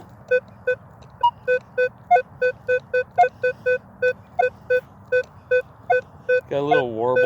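A Minelab Equinox 800 metal detector emits a rapid train of short, evenly spaced beeps with a slight warble, close and clear over dry, hard grass, ending as a voice begins talking.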